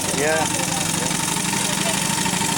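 A miniature steam traction engine at a garden rail show runs with a steady, continuous mechanical chug and hiss close by, a brief voice heard over it.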